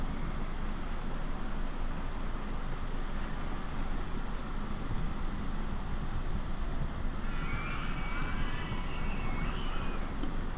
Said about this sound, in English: That rain is pretty loud.